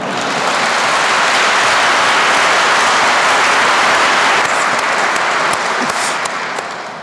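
Loud, dense applause fills a church after a talk, a broad steady roar of many clapping hands that holds evenly and then slowly fades at the end.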